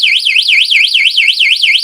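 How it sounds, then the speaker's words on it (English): Nulock alarmed bike lock alarm blares at close range, a piercing, rapidly warbling electronic siren repeating about four cycles per second, very loud and alone. "The alarm is deafening."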